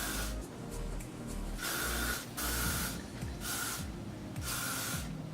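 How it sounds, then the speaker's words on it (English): L'Oreal Elnet Satin hairspray is sprayed onto hair in four or five close, airy hissing bursts, each lasting about half a second, separated by short pauses. "So I'm just gonna spray this."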